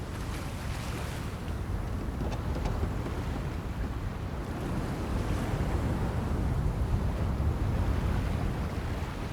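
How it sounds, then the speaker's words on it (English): Steady ocean waves and surf wash continuously in A Fisherman's Tale, a dense, fairly loud roar with wind-like hiss and no pauses or voices. "I can almost hear the sound of the waves."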